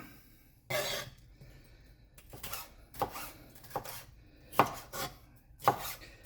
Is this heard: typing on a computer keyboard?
no